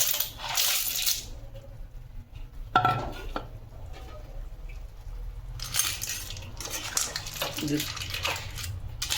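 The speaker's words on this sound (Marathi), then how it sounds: "आता आपण आपल्या शिंपल्या घालूया तिथे" Clam shells tumble into a cooking pan for a Konkani shimpla sukka, making bursts of hard, rattling clinks and clatter against the metal, close and fairly loud, with a short pause between the pours.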